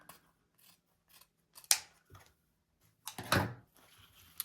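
Scissors snip through 2.5-inch solid white ribbon while a large bow is being made: two crisp, close cuts, the second longer and louder, with quiet handling rustle between them.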